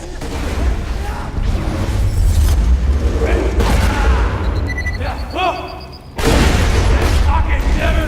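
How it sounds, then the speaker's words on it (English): Grenade blasts and gunfire from Borderlands 2 boom and rumble loudly through dense game action, with a sharp burst near the end, while a voice talks over the chaos. "Tossing grenades!"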